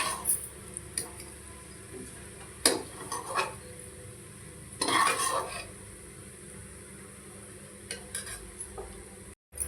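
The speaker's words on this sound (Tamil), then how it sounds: "இப்போ நம்ம இதை ஒரு பிளேட்டில் எடுத்து வச்சுக்கலாம்." Fried paneer is moved from a pressure cooker onto a plate in a home kitchen, giving scattered metal scrapes and clinks of utensil on cookware, with a few louder clattering bursts against a faint sizzle and no talking.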